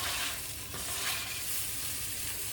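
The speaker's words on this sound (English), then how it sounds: "Just gonna give that a little stir." An egg mixture with jalapeno sizzles in a frying pan, a steady close hiss with light stirring scrapes and no talk.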